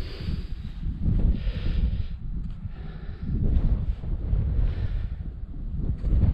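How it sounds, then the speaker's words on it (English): Wind gusting across a hillside wild campsite in the Ettrick Valley, Scottish Borders, buffeting the microphone with a low, loud, continuous rumble that surges and eases in waves, no voices. "the bloody wind seems to have changed direction as per"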